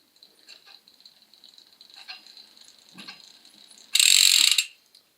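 Bicycle wheel spun by pedalling on a Bombtrack bike, with a faint, rapid hub ticking over a few seconds that ends in a short, loud burst of freewheel ratcheting.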